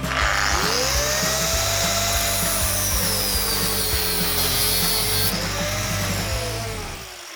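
A power saw cuts steadily through an aluminium turbo intake pipe on a VW Up GTI, a loud continuous whining buzz with a rising and falling pitch that stops near the end.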